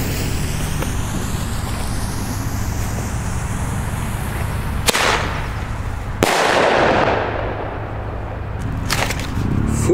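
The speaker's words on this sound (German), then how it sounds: "Und jetzt den Thunder King." A Thunder King firecracker at New Year's Eve festivities gives a sharp crack, then a louder, deep close-range boom with a long echoing fade, followed by faint distant pops.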